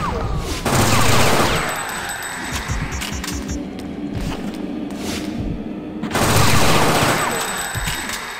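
Gunfire in the Fear Effect video game, rapid bursts of heavy automatic shots with booming impacts, loud and dense with a lull in the middle before another intense volley.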